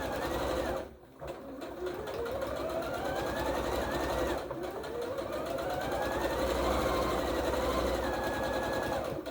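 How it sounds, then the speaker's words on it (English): Sewing machine top stitching around the edge of a fabric headband, a steady mechanical whirring run with two brief pauses, close and fairly loud. "So then I just top stitch all the way around the edge, along the top edge."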